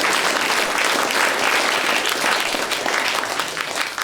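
Applause from a stand-up comedy concert audience fills four seconds, a loud, steady rush of many hands clapping that thins slightly toward the end.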